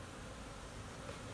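Honey bees buzz at a hive being winterized in cold wind, a dense, steady hum that fills the brief moment without pause.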